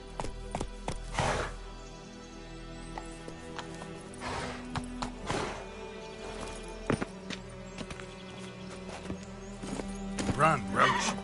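Roach, the horse in The Witcher 3, gallops with steady clip-clop hoofbeats over continuous game music, with a short whinny near the end and a voice speaking over it.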